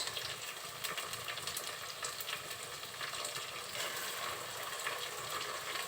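Soft, steady sizzle of onions frying in a pan as ginger paste goes in for a beef curry, a faint continuous crackle with no talking.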